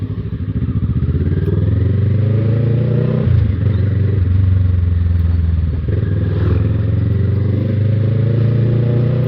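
A Kawasaki ER6F Ninja 650 motorcycle being ridden, its engine droning loud and steady with a deep throbbing note, a couple of brief dips as the throttle shifts, heard close with wind rumble.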